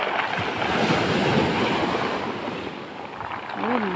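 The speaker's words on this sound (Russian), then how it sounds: "Еще волна такая сильная." Stormy sea surf breaking against the high shore at Anapa, a continuous loud roar of crashing waves and churning water with steady wind buffeting the microphone throughout.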